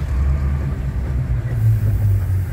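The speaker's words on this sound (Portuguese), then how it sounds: "Freio motor que segura" A truck's engine brake holds it on a downhill descent, giving a loud, steady low rumble with a droning engine tone that barely changes.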